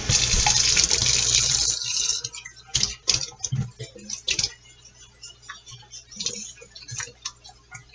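Water pours from an ice cube tray into a container in a short close splashing stream, then gives way to scattered light clicks and drips in a quiet room.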